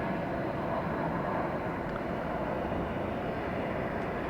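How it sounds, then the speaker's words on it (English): A Spirit airliner coming down to land on runway 26 right at Atlanta Hartsfield airport: a steady, broad jet roar, distant and unchanging throughout, with no voices. "We're watching Spirit come down for landing, reestablish contact with the ground"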